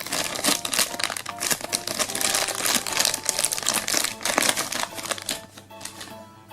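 Plastic bubble packaging of a LOL Surprise Lil Outrageous Littles doll being torn open: dense, continuous crinkling and crackling of plastic, close and fairly loud, with sharp snaps scattered throughout.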